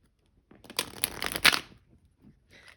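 A deck of cards is riffle-shuffled close by in a quiet room, giving a quick burst of crisp flutters lasting about a second, with a faint soft rustle afterward.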